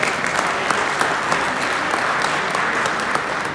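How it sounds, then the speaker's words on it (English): Congregation at a Ramadan taraweeh gathering claps for the fundraising committee, a loud, even roar of many hands that runs unbroken for several seconds without speech. "So I'd like you to say a clap too for this and my fundraising committee."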